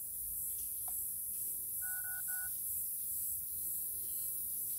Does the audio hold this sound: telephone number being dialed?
yes